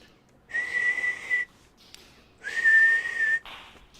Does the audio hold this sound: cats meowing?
no